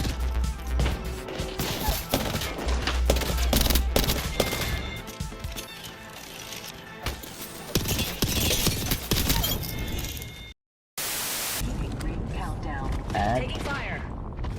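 Dense, loud gunfire and crashing impacts in an Apex Legends firefight, sustained bursts and shots layered with game effects, a brief cut to silence, then more chaotic action noise, with a player talking over it.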